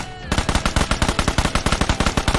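Rapid bursts of automatic gunfire from a Badger rifle in PUBG Mobile, a steady fast rhythm of loud close shots that runs nonstop after a brief quiet start.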